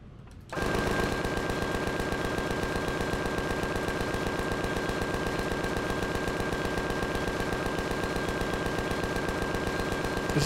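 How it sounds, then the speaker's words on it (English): A turret in Empyrion Galactic Survival fires continuously, a rapid, steady, dense rattle of automatic gunfire that starts abruptly and holds at constant loudness with no talking. "I had a feeling there's a turret in here."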